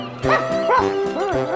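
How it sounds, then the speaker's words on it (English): A cartoon dog barks three times in quick succession, close and loud, each a short, bright yip-like bow-wow. "If you keep barking like that, they'll find me."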